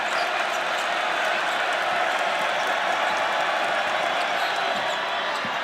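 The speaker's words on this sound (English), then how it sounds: "Crowd on their feet again." Dense, steady roar of a basketball arena crowd cheering after a three-pointer from the corner in a Texas A&M vs Arkansas college game, loud and continuous throughout with sneaker and bounce sounds faintly mixed in.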